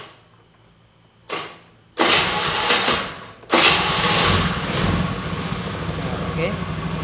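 Electric starter on a carbureted Honda Beat motorbike cranks briefly, then the engine catches and settles into a steady, loud idle close by.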